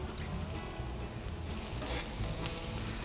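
Pancakes and bacon sizzle steadily on a Traeger griddle, a loud, continuous frying hiss that brightens and intensifies partway through as more batter hits the hot surface.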